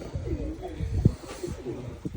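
Black pigeons of an Indian breed, kept with their young by an Australian pigeon fancier, coo close up in low, throaty, repeated rolling calls.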